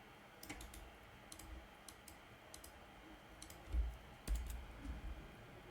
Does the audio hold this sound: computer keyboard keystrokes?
yes